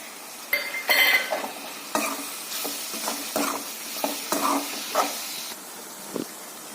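Chopped tomato and onion masala with turmeric, red chili powder and salt cooks in a pan for a bitter gourd curry, heard as intermittent scraping stirs over a faint sizzle, spaced about every half second and unaccompanied by talk.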